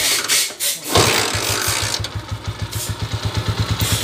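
A motorcycle engine, just fixed after a timing gear problem, cranks and fires up, then settles into a steady, rhythmic putting idle up close, with no talking.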